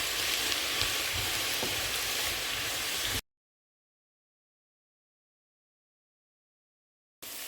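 Ground coconut paste mixed into yellow cucumber stir-frying in a pan, a steady close sizzle for about three seconds, then a few seconds of silence before the sizzle returns briefly.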